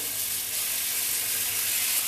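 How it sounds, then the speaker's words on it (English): Marinated chicken legs, balsamic glazed, sizzling in a hot pan, a steady broadband frying hiss that holds even throughout, moderately close with no talk. "I hope you can hear it, but it's sizzling. So I know that my pan is hot."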